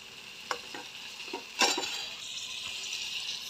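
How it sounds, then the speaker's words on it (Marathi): Stirring sprouted moth bean sabji in a pan, with a few scraping knocks from the spoon and a steady frying sizzle that swells after the stir, close and fairly loud. "मस्त आपल्याला हलवून घ्यायचं याला"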